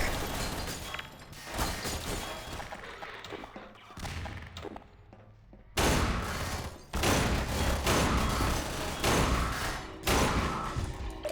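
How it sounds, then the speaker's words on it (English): Pulse rifle fire from a Half-Life sourcemod game, dense and loud bursts of rapid shots with mechanical thumps, a quieter stretch midway before heavy firing resumes and continues to the end. "It shoots the pulse rifle rounds and does the pulse rifle right click."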